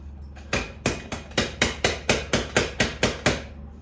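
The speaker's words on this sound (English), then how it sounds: "And drive this bushing in here." Hammer blows drive a bushing into a Honda CR250 motorcycle suspension part, about a dozen sharp, evenly spaced metallic strikes at close range with no talk.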